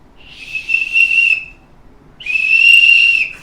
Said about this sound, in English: This is a Tiffany & Company dog whistle!